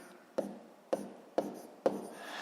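A pen or marker writes a fraction by hand, four short scratchy strokes at a steady pace, close and fairly quiet, with no talking.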